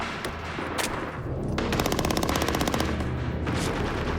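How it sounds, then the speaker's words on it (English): A machine gun fires a rapid burst of several rounds in quick succession, loud and close, with sharp repeated reports over a dense rumbling background. "he let go a blast of about 5 or 6 rounds"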